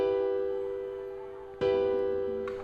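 A minor chord played on a synth instrument in FL Studio, sustained tones ringing out alone and then struck again about halfway through, with a fainter third attack near the end.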